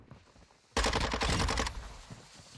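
Burst of rapid automatic gunfire in the Modern Warfare 2 video game, loud and dense for about a second before dropping back to quieter game ambience, with no talk.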